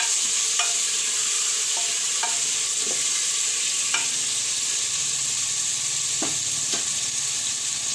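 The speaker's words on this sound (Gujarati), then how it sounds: "બટેટાને આપણે મિક્સ કરી લઈશું" Potatoes are stirred into hot oil in a pan. A constant frying hiss carries on throughout, with sparse spatula clicks and scrapes at close range, and no one speaking.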